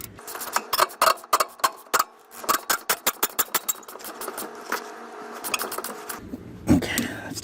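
A ratchet on a size 15 socket tightens a Jeep Cherokee track bar bolt in quick, close clicking bursts, the strokes slowing and spacing out, with a short voice near the end.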